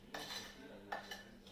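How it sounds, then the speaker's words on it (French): A utensil stirring eggs and sugar in a mixing bowl for a lemon and anise liqueur cake, with two quick clinking scrapes against the bowl, close and fairly quiet. "je vais mettre le sucre et bien remuer"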